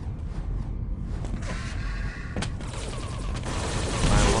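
Railgun fire in a Quake Live team deathmatch, with a sharp crack standing out around the middle of a dense, continuous stream of other weapon fire and game noise.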